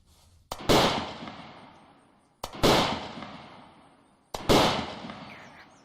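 Three powerful sniper rifle shots from a military video game, each a sharp, loud crack followed by a long booming tail that fades out, spaced about two seconds apart.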